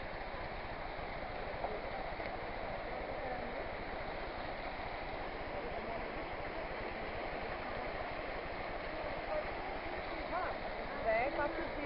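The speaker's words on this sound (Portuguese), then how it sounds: "Tem uma cachoeirinha aqui, ó." Small waterfall and flowing stream at Cachoeira do Poção in Miguel Pereira, a steady faint rushing wash of water that continues throughout.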